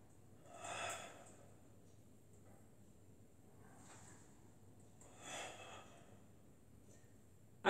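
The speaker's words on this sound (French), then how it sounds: "Vous inspirez et vous expirez pour revenir toujours en creusant le ventre." Breathing during a beginner Pilates exercise: two distinct audible breaths, each a soft airy rush, separated by a quiet pause and heard close against a low background hum.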